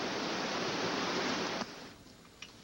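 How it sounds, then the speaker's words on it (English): Steady, heavy rush of a waterfall inside a cave fills the space, then drops off abruptly and leaves a quieter echoing trickle with a couple of small knocks. "I can hear the water going down there now. We got a waterfall."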